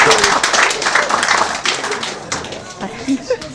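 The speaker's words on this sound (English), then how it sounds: "So give a round of applause to Melissa" Applause for Melissa at a wedding celebration during the speeches, a dense burst of clapping from the guests that thins into scattered claps over a few seconds, with voices mixed in.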